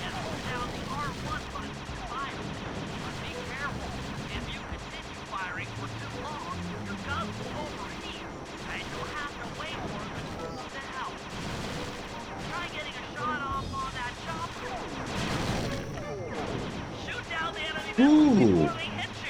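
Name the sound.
gunfire in the video game Sly 2: Band of Thieves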